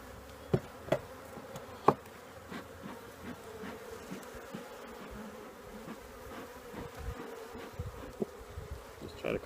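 Honeybees fly around an opened hive during a split, filling the air with a faint, continuous buzzing hum, with a few sharp knocks scattered through it.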